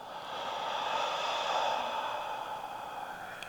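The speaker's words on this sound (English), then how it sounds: "And a deep exhale through the mouth." Slow, deep exhale through the mouth during a restorative yoga session, a soft, steady breathy rush lasting about three seconds, close and quiet, with no talk.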